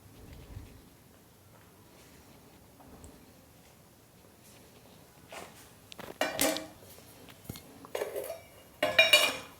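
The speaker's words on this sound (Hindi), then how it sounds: "और एक ले लेंगे हम फोक और इससे इसमें हम छेद बना देंगे।" Fork tines poke holes into dough while making katori chaat, heard as faint scattered clinks and taps that grow louder and denser toward the end, close by with no talking.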